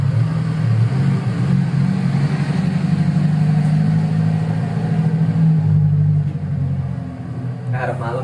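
Car passing along a roadside next to a sidewalk on a busy road, a loud low rumbling engine swelling and fading over several seconds, with talking over it.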